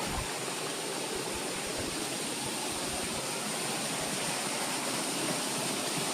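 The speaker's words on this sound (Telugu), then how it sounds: "ఇది వాటర్ ఫాల్స్ అనమాట" A small waterfall at the Mylaram Mallanna temple, steady rushing water with an even, broad roar that holds from start to finish, heard on its own with no talk.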